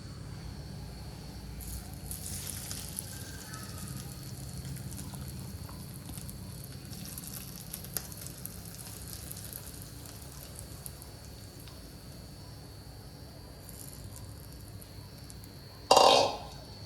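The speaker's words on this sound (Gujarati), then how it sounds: "આ રીતે મસ્ત વઘાર થઈ ગયો છે" Curry leaves and coriander crackle in hot oil as a tempering for dal, a quiet, steady patter of fine pops that runs throughout, with a brief louder knock near the end.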